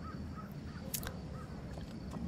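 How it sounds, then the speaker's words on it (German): Magpies in the stealth game Thief give a few harsh, raspy calls against a quiet ambient backdrop, short bursts spread across the moment without any voices. "Hier gibt's diebische Elstern"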